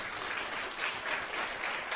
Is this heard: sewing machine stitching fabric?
no